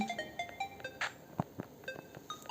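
A phone rings in the Toca Life World game, a faint electronic ringtone of short repeated tonal beeps and chimes lasting a couple of seconds with no talking.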